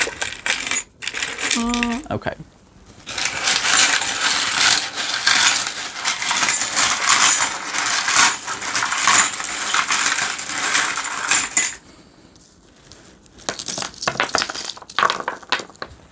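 Dice and charms are cast during a tarot and astrology reading, producing a long dense rattle and clatter of small hard pieces shaken and tumbling, loud and close, with short pauses and a brief spoken word near the start.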